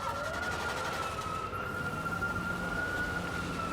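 An ambulance siren wails at a distance after an earthquake rescue, holding a steady high tone over a dense wash of broadband rubble-site noise, faint and continuous throughout with no voices.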